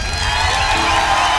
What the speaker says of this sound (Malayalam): ഈ ഉത്തരം ശരിയാണോ അല്ലയോ എന്ന് അറിയിക്കാനായിട്ട് നല്ലൊരു കയ്യടി